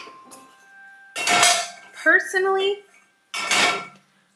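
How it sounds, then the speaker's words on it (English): Dishes being washed by hand at a sink: three loud, close bursts of clattering pots, pans and cutlery with metallic clinks and ringing, separated by short pauses, while a person talks briefly. "because I'm doing dishes."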